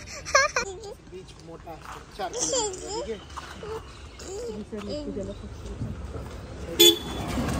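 Cars passing and a short horn blast on a narrow road near Goa's Baga beach, with nearby voices and a child babbling over steady traffic rumble; a sharp toot near the end.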